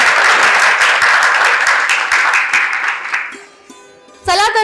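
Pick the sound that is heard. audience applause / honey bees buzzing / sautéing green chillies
audience applause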